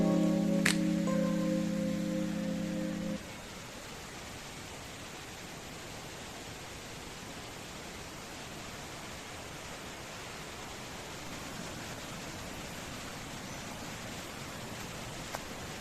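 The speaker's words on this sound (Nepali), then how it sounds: "मुनि यस्तो खोला हेर्नुहोस्।" A small mountain stream rushes below a landslide-damaged road in Rolpa, Nepal, as a steady, faint, even hiss of flowing water, preceded by a brief tonal sound in the first few seconds.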